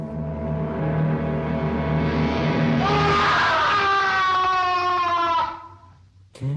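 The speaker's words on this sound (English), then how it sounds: "that scream that he does when he discovers Igor?" A long, loud anguished scream from the 1939 film Son of Frankenstein, voiced by Frankenstein on finding Igor's body, rising in pitch and holding for several seconds before breaking off abruptly into quiet.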